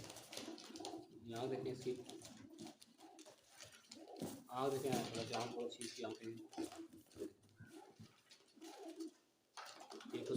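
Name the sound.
kasuri pigeon cooing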